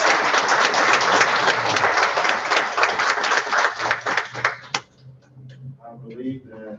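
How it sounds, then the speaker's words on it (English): Dense, loud audience clapping for honorees at a school board of trustees meeting fills the first several seconds, then breaks off abruptly as a voice begins speaking. "Let's give all of our honorees another round of applause."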